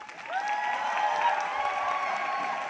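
Sustained applause from a seated and standing audience at an Indian corporate recognition ceremony, a steady dense wash of clapping with faint cheering, filling the hall throughout.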